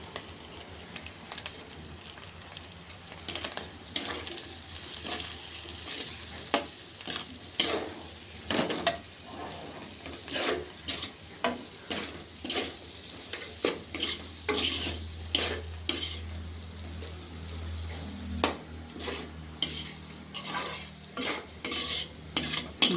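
Turmeric, cumin and coriander powder fry in a pan, a soft sizzle broken by repeated scrapes and clinks of a spoon stirring at an irregular pace, close and fairly quiet.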